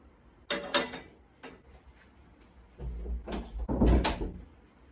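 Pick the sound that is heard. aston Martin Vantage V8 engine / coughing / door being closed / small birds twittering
door being closed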